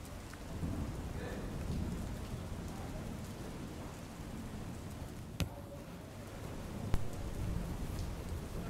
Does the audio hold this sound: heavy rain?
yes